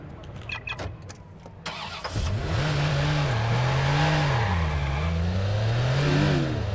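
A car engine in the Watch Dogs video game cranks and catches, then revs up and down in several swelling sweeps, loud and close, with no talk over it.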